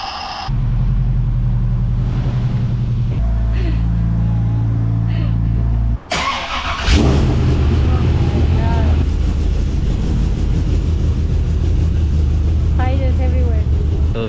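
Cars are shuffled out of a cluttered home garage holding a Subaru, an Evo and a VN Commodore with an LS1, their engines rumbling steadily at close range, a restart midway louder and rougher, with speech over the top.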